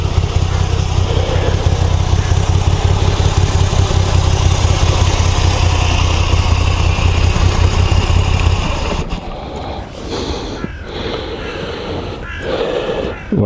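A 2022 Moto Guzzi V85 TT with its air-oil cooled V-twin runs at a loud, steady, throbbing idle nearby for several seconds, then the engine noise drops to a quieter rumble with some handling sounds.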